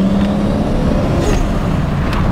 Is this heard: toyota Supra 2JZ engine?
yes